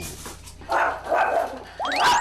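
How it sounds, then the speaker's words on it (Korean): A Chihuahua barks in greeting at home, giving a few short, close yappy barks and a rising whine-like squeal within about two seconds. "이 녀석 반갑다고 짖는 거 맞죠?"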